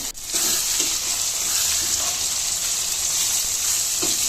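Chopped tomato hits hot oil in a frying pan while cooking vangibath, setting off a steady, close sizzle with occasional soft stirring clicks.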